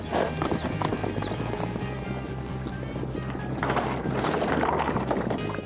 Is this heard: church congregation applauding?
no